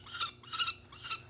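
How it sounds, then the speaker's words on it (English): A young falcon chick, nearly ready for its first flight, gives three repeated raspy calls in a steady rhythm, close and fairly clear against a faint low background hum. "you just sit and listen to the bird a little bit"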